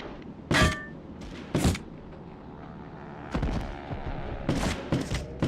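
Suppressed gunshots from Medal of Honor Underground pop in sharp, separate reports, two quick shots early and a cluster later, each loud and close over a quiet background hum.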